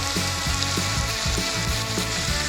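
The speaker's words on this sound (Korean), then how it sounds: "올리브유를 부어주시고 양파를 넣어주세요." Onion frying in olive oil with a pinch of salt, a loud, dense, continuous sizzle close up with faint rhythmic scraping from stirring, no voices.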